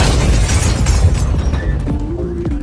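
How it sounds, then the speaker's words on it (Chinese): A luxury car explodes in a Breaking Bad drama scene, giving a loud low boom with crackling debris that quickly fades, followed by a lingering tone. "等怀特离开没多久，100万豪车直接发生了爆炸。"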